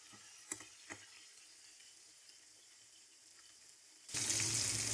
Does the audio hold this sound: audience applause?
no